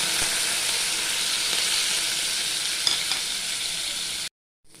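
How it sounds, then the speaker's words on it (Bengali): Shrimp sizzle and fry in hot oil with salt and turmeric in a kadai, a steady close crackling hiss that holds for about four seconds and then cuts off abruptly. "এইবার চিংড়ি মাছগুলো সব আমি নুন হলুদ দিয়ে ভেজে নেব।"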